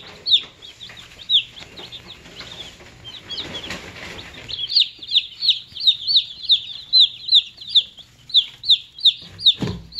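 Chicks peep rapidly and repeatedly, high and close, over soft clucking and rustling, the chirps growing into a steady rhythmic stream.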